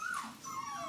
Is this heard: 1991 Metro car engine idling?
no